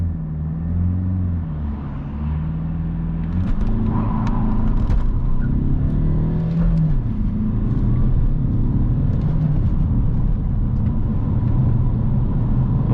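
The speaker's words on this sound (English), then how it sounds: "Let's see how this Alfa will cope with the acceleration." A 2010s-era Alfa Romeo 159 with a 1.9 JTDm 150 HP diesel engine accelerates on the autobahn, engine drone rising through the gears under steady road and wind rumble from inside the cabin, no talk.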